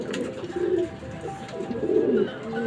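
A racing pigeon coos softly nearby, a few low throaty calls repeating over a steady background hum.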